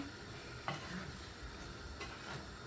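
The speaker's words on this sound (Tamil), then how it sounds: "இப்போ வந்து இந்த கடலையை வந்து நல்லா மிக்ஸ் பண்ணி விடுவேன்." Chickpeas being mixed into a brinjal curry in a pan produce a faint, even sizzle with a couple of soft spoon scrapes, quiet and close with no talking.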